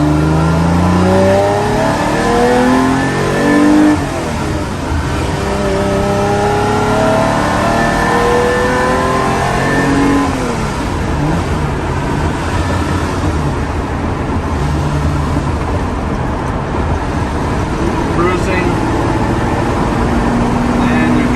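Ferrari 365 GT 2+2 engine revving hard on a farm road, loud and close, pitch climbing through repeated upshifts with a continuous roar and some voice underneath.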